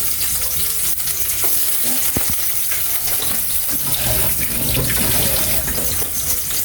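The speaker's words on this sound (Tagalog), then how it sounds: "So igisa muna natin yung bawang" Garlic sautés in a generous amount of oil in a pan, giving off a constant, loud, even sizzle with a few faint clinks from a utensil.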